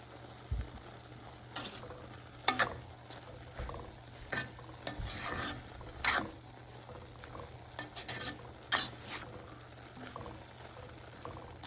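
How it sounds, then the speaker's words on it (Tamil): Chopped banana stem stir-frying in a pan, a soft steady sizzle with repeated scraping and stirring strokes at close range and no talk over it. "பச்சை வாசனை போகிற வரைக்கும் நல்லா வதக்கி விட்டுக்கோங்க."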